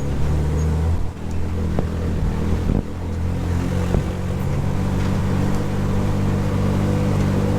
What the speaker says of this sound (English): the idle's super high right now, which is not fun